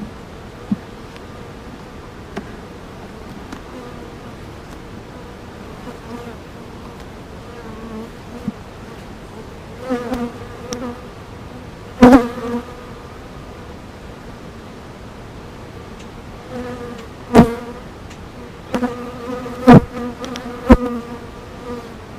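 Honeybees hum in a steady dense drone over an open hive during an inspection, with occasional louder buzzes as individual bees fly close past.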